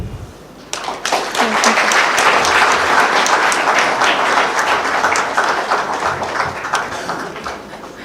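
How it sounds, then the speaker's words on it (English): A college law-event audience applauds as the chief guest, a Supreme Court judge, takes the stage, a loud sustained round of clapping that swells after a brief start and holds steady throughout. "please join me in extending a warm round of applause for our esteemed guest as he takes the stage"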